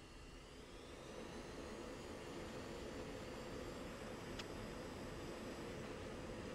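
F-16 jet engine in the Falcon BMS flight simulator during the takeoff roll, a steady, broad turbine roar with a faint high whine, holding even and continuous with no voices over it.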